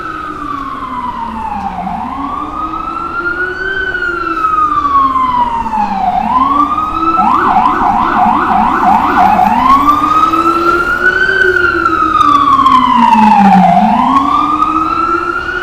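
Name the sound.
emergency vehicle sirens in city traffic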